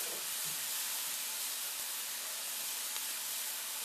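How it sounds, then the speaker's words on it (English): A burger frying in a pan, doused with a tablespoon of Worcestershire sauce, gives off a steady, close, even hiss of sizzling and steam that holds at one level throughout, with no talking. "When you flip the burger, go ahead and douse the top with a tablespoon of Worcestershire sauce."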